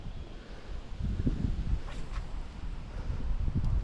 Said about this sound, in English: Wind's coming right at me, so that's not helping